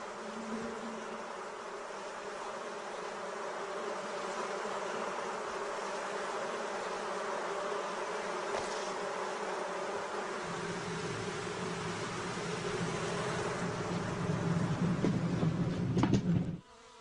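A swarm of honeybees buzzing steadily, a dense continuous drone that stays even and close before swelling slightly and cutting off abruptly near the end, with no voices.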